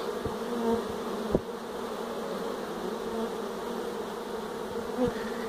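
Honeybees buzz steadily around a hive as a swarm is captured outdoors, a dense continuous hum close to the microphone with a few brief soft knocks, no voices.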